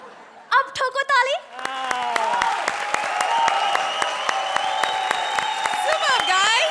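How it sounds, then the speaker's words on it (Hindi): Audience at a stand-up comedy show breaks into sustained applause, dense clapping with cheering and a sung or musical tone running over it, starting after a few scattered claps and holding steady to the end. "अब ठोको ताली"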